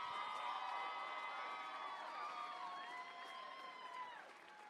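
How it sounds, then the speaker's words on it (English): A crowd in an Andover, Massachusetts fight venue cheers, whoops and shouts for two women fighters, Jennifer Perella and Kalindra Faria, a loud sustained roar with shrill voices rising and falling, fading slightly toward the end. "I think these are two badass mamas who deserve a rousing round of applause from everyone in"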